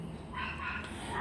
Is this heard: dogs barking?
yes